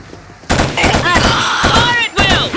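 Video game gunfire in Killzone: sustained loud bursts of automatic fire and impacts from a battle scene, with shouted voices layered over the shooting throughout.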